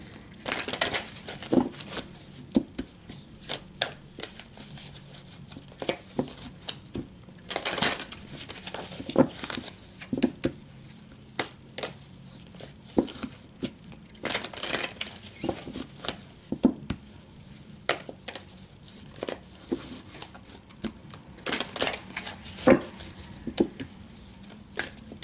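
Oracle cards handled and shuffled close by, an irregular series of soft papery slaps, riffles and crinkles coming in scattered bursts with quiet gaps between.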